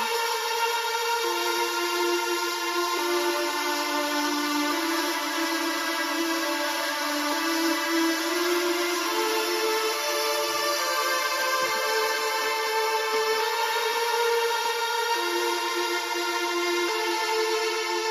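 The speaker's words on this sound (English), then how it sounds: "Also added a lead pad to this track, which sounds like this." A synthesizer lead pad from an electronic music track holds a dense, sustained tone with slowly shifting notes, steady and full throughout, with no other sounds.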